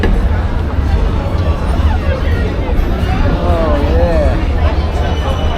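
Steady babble of a large outdoor crowd at a busy London sightseeing spot, many overlapping voices blending into a constant loud murmur with low traffic rumble underneath.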